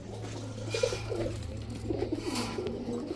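Soft, low coos of a female Giribaz pigeon repeat in short rolling phrases over a steady background hum.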